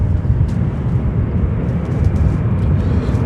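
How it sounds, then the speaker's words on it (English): Wide-body airliner landing at Chicago O'Hare, a loud steady broadband engine roar dominated by deep rumble, continuous throughout with no talk. "We have another wide body coming in."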